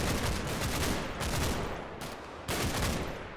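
A Bren light machine gun in the Combat Mission: Battle for Normandy war game firing three loud, rapid bursts, with brief gaps between the rattling volleys.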